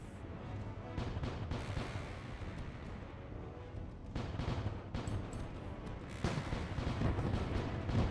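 A ship's laser firing in the space combat game Void Sails, heard as dense, rumbling bursts of booming blasts over a constant low roar, rising in intensity toward the end.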